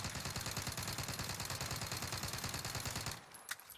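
Milano submachine gun firing in full auto in Warzone, a steady rapid stream of loud shots for about three seconds, then a sudden stop and a faint click.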